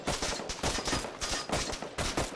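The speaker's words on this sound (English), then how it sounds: "All right, just opening fire on them" Repeated gunfire bursts from a boat engagement on the water in ARMA 3, a string of sharp, loud shots coming in roughly regular volleys with no voices over them.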